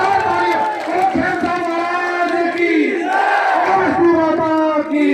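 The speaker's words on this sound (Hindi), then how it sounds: "जोरदार तालियां" Large crowd at a political rally in India roaring and cheering loudly and continuously, a dense wall of voices and shouts with clapping mixed in, close and sustained throughout.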